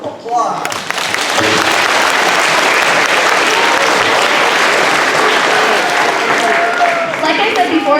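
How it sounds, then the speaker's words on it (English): An audience at a school assembly applauds kindergarten helpers: a brief murmur of voices, then loud, continuous clapping that swells and holds steady before tapering off at the end. "let's give them a round of applause"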